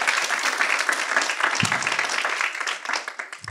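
Applause from a church congregation during a sermon, steady, dense clapping from many hands filling the room, sustained throughout at a loud, even level.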